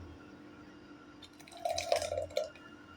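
Curry leaf and gooseberry juice being poured through a strainer into a container, a soft close trickle and splash that swells for about a second in the middle and then fades, with no talk.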